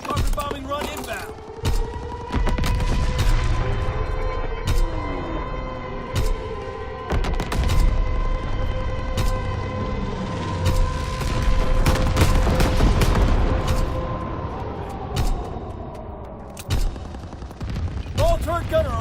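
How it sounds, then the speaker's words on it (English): Carpet bombing run in Call of Duty WWII multiplayer: a dense barrage of explosions and heavy gunfire, sharp loud blasts and booms over a droning aircraft engine, with voices calling out amid the bombardment. "Carpet bombing run inbound."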